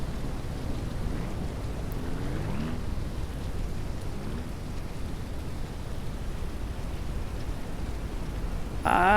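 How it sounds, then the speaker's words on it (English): Rain from a storm that is dying out hisses steadily through the trees as a soft, even wash of noise, with faint low rumbles in the background. "Although it is dying out, though, looks like the storm is over."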